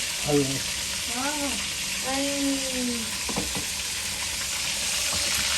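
Fish frying in a pan in a home kitchen, cooked by a father for the first time: a steady, loud sizzle runs throughout while voices talk over it.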